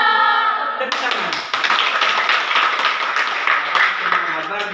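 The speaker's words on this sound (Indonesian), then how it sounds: "Tepuk tangan." Children clap their hands at a Sunday school gathering, a dense burst of many small hands that starts suddenly after a moment of speech and keeps going steadily and fairly close.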